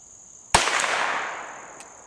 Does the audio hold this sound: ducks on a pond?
no